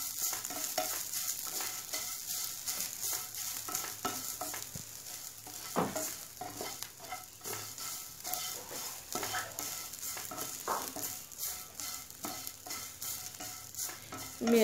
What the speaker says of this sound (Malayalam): നാളികേരം ഇനി നന്നായി ഇതിൽ കിടന്ന് മൂത്ത് വരണം